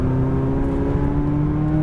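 A 2019 McLaren 570S engine on a Las Vegas race track holds a loud, steady drone from close by, pulling with light throttle and no sharp revving, alone with no voices.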